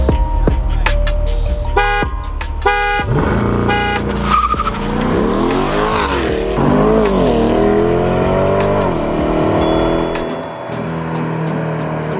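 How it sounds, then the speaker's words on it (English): Several short car horn honks in a row, followed by an engine revving hard and tires squealing as the car pulls away. "I'll just honk so you know I'm about to go"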